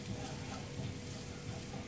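Chopped garlic with coarse pepper frying gently in a pan to soften without browning, giving a steady, close, even sizzle with no talking.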